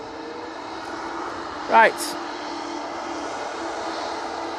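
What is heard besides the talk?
easyJet airliner approaching on final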